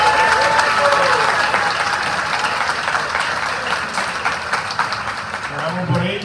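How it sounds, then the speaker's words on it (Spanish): Church congregation gives loud, sustained applause during a priestly ordination Mass, a dense wash of clapping from a large crowd with murmured voices. "le damos un fuerte aplauso."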